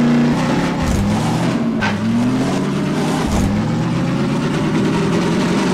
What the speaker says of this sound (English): Better not be complaining about my driving, Alyx.